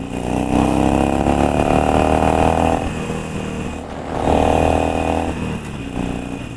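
Harley-Davidson 883 Sportster V-twin engine revving hard to overtake on an open road, two rising surges of loud rumbling exhaust separated by a brief easing of the throttle, heard close up.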